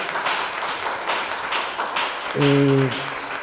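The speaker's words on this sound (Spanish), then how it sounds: "un aplauso muy fuerte para el profesor Morales" An audience at a cultural-centre talk on an archaeological temple in Jaén claps for Professor Morales: steady, dense applause throughout, with a brief tonal sound cutting in near the end.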